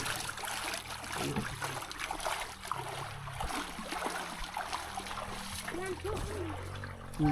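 Water being scooped from a stream in a rural Lao village, with splashing and trickling throughout, mostly under steady talk from people nearby.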